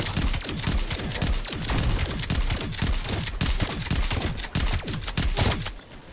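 Rapid bursts of gunfire from Call of Duty Zombies as a player shoots zombies, with dense close shots and sharp cracks repeating steadily for about six seconds and no talk over them.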